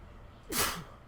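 A single sharp human sneeze, close and fairly loud, bursting out after a brief quiet intake and fading within a fraction of a second.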